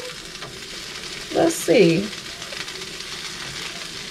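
Canola cooking oil sizzles in a pan as food hits it, two short bright bursts of frying crackle over a quiet kitchen background, with a brief spoken voice nearby.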